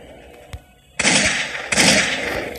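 Gunfire from a weapon in the video game Pixel Gun 3D: a faint tap, then two loud, close bursts of shots, each ringing out briefly.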